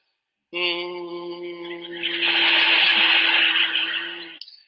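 A voice imitates a slow idling motor: a steady, low buzzing drone that grows rougher and louder midway, then cuts off.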